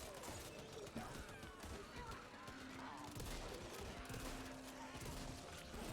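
Rapid gunfire crackles through a chaotic Back 4 Blood firefight as several sniper rifles fire at the players, with shots and impacts densely layered under steady game noise and a voice speaking.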